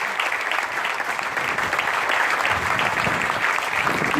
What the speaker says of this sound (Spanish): Este es un aplauso para la ciudadanía